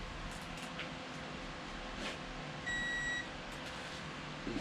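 Digital torque wrench giving a short electronic beep partway through, faint against a low hum of background noise in a quiet shop.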